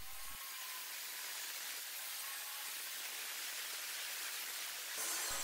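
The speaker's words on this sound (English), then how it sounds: "this began at the table saw. First cutting it to width" A table saw rips a bamboo plywood board to width, a steady loud broadband whine running unbroken for about five seconds, with the blade spinning down briefly at the start and end.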